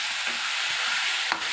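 Tomatoes sauté in a pan for fish curry, giving a loud, continuous close sizzle with a brief scrape of stirring near the end.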